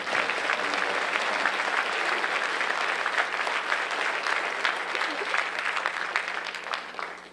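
Crowd applause at a high school Flag Day honors ceremony, sustained dense clapping from a sizeable audience, loud and steady before tapering off at the end, with a hint of voices underneath.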